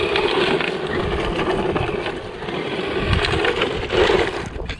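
A 1:10 scale 4WD electric RC car on a lipo battery runs at full throttle, giving a steady, loud broadband rush of motor whine and tyre and terrain noise that holds throughout, swelling slightly near the end.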